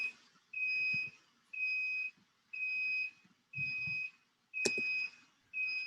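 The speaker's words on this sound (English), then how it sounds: "There's like an alarm sound." Repeated electronic alarm beeping from a neighboring home, long steady tones in a regular on-off rhythm about once per second, heard faintly through walls with no talk over it.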